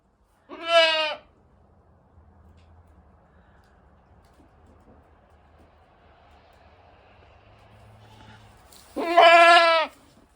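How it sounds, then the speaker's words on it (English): A Nubian goat bleats twice, once loud and close near the start and again near the end, each a wavering nasal cry, with a quiet stretch of faint background hum between the calls. "one of our cousin's Nubian goats"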